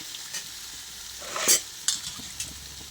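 Frying in oil on a dosa pan gives a low, steady sizzle, with a few brief louder crackles and scrapes standing out from the soft background, heard close with no voices.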